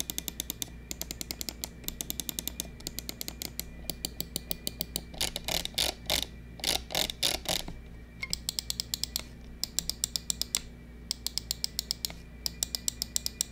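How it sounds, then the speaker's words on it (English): Side buttons of a Zowie FK-B Divina gaming mouse clicked repeatedly, crisp sharp clicks in quick rhythmic bursts, close and fairly quiet, with a few denser rapid clusters midway. "these side buttons are some of the clickiest I have ever heard"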